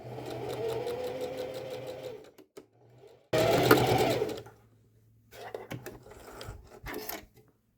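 Sewing machine stitching the side seam of pajama pants, sewn from a Simplicity S9019 pattern, in two steady whirring runs separated by brief pauses and a few short bursts, close and fairly loud.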